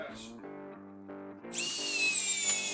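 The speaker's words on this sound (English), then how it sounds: "Bosch just kept going and going and going and going like forever, racking up those inch-pounds and then going some more." A Bosch cordless drill drives a fastener during a torque test, a voice talking at first before a loud, sustained high-pitched motor whine takes over and runs steadily to the end.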